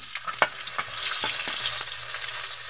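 Garlic fries in hot oil in a wok, a close sizzle punctuated by a few sharp scraping stirs of the spatula, with no one talking.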